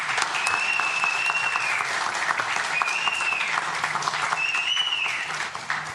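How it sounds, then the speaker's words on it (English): Sustained audience applause at a city council meeting as a municipal court team is called up to be honored, steady and fairly loud for the whole stretch with a faint whistle-like tone drifting over it. "Let's give them a round of applause as they come."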